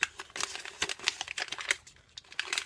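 Paper crinkling and crumpling into a small ball around the eraser end of a pencil, a close, busy run of dry crackles over about three seconds with no talk.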